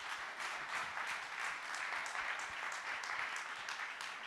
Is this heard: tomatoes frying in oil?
no